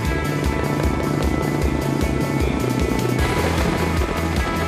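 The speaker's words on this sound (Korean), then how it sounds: "담수할 곳을 발견한 헬기가 서서히 저수지를 향해 내려가기 시작한다" A Russian Ka-32 helicopter slowly descends toward a reservoir during a wildfire-suppression drill, its heavy, steady rotor thump pulsing loudly and continuously throughout, with dense engine roar and no voices.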